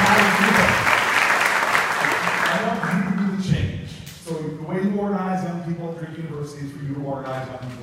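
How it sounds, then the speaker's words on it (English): Applause from a campaign event audience in Clive, Iowa, fills the opening seconds as loud broadband clapping, then fades out around the midpoint as a voice takes over and speaks on. "give her a round of applause."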